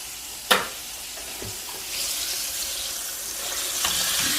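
Shrimp deep-fry in hot oil with a steady, close hiss and crackle, one sharp clatter near the start, and the sizzle swelling a little later on.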